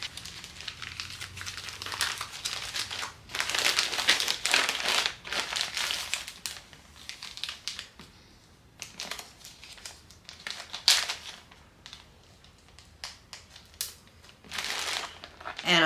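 Plastic Ziploc bags, four filled with pizza dough plus a fifth, are handled and crinkled up close in bursts of rustling and crackling, with brief pauses between handfuls and no talking.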